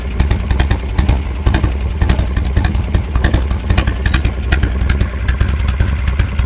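A motorcycle engine fitted with an S&S carburetor runs after a carburetor adjustment, holding a steady, lumpy idle with rapid rhythmic firing pulses, close and loud, with no talking.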